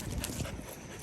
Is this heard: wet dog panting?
yes